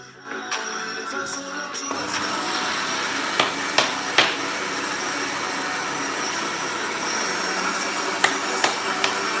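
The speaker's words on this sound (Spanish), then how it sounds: "porque voy a licuar esto ya" A blender runs steadily and loudly on homemade Baileys, a dense continuous whir with a few sharp knocks and clicks over it.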